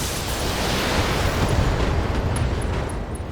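Ammunition cooks off and explodes inside a mech's right torso in the Battletech video game, a sustained roaring, rumbling blast that fills the whole moment at steady loudness with no voices.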